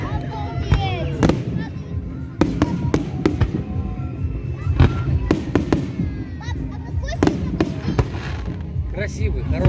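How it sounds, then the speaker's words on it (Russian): Evening fireworks display at the opening of the resort season in Gelendzhik, with repeated sharp bangs and crackles scattered throughout, some near and loud, while people talk nearby. "А это специальный салют, чтобы для рисования."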